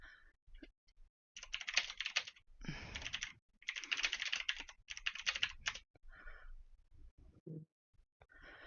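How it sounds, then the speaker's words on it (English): Bursts of typing on a computer keyboard, rapid close clicking in several runs separated by short pauses, fairly quiet and alone without talk. "I'm just typing something from Hence's chat."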